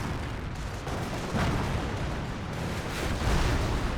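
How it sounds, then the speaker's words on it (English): An Airborne bomb run in Company of Heroes 1, loud continuous rumbling blasts and thuds layered together, swelling twice toward heavier impacts. "Bomb run there from the Airborne player."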